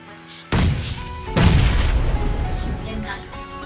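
Two heavy booming blasts in a video game, the first at about half a second and a louder second one just before 1.5 s, each followed by a long rumbling decay, with faint background voices.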